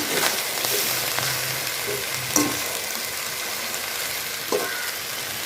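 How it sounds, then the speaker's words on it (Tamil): Capsicum rice made with basmati frying in a pan over a low flame, a steady close sizzle broken by a few scraping stirs and light knocks of a spoon, with no voices. "தீயை கம்மியாக வச்சு நல்லா கிண்டி விடுங்க"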